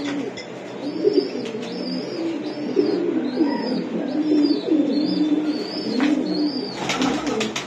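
High-flying Giribaz racing pigeons in Old Dhaka coo repeatedly in soft, rolling calls close by, with occasional chirps over a steady background hum.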